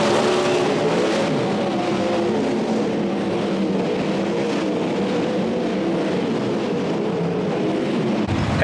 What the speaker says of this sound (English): good on Kobe Wright, first ever sprint car heat race winner at the new Sydney International Speedway.